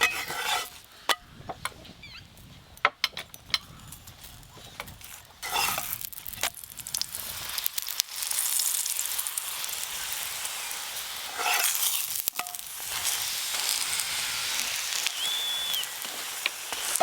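Methi shak paratha frying in plain oil crackles in a loud, continuous sizzle that swells after the first few seconds, broken by occasional sharp scraping and tapping of a spatula close by.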